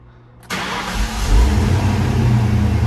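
A Ford Mustang GT (SN95) engine cranks and catches at once, settling into a loud, steady idle rumble close by, with no talking.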